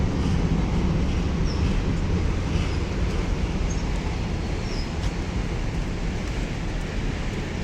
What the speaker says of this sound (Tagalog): ang LRT oh.